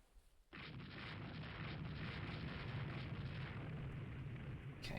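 A sustained roaring rumble of naval gunfire and explosions in the warship strategy game Rule the Waves 3, a dense continuous blast bed that starts abruptly and holds steady at moderate loudness with no talk.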